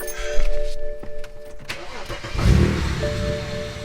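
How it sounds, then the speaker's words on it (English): A tuned BMW N54 engine with colder spark plugs cranks and starts, the starter whir giving way to a smooth, close idle. "get the car started up, just to make sure everything's functioning the way it should be"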